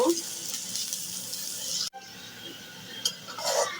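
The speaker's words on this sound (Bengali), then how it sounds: "এখন পেস্টটা একটু ভাজা ভাজা করে নেব" A pan sizzles steadily as spice paste fries, with a brief break and a few utensil clinks and scrapes.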